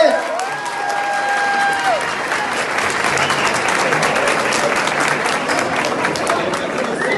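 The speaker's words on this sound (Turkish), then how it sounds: "Yani siz alkışladınız." Loud, steady applause from a large wedding crowd after the bride sings, dense clapping filling the space, with a bit of cheering and a high tone briefly sounding near the start.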